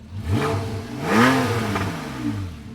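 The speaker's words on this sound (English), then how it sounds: "turn on the sports exhaust separately. The valves, you can hear it open up a little bit." A 2015 Porsche 911 (991.1) GTS revs up and then eases off with its sports exhaust valves open, a deep rising-and-falling exhaust roar with a brief louder peak in the middle.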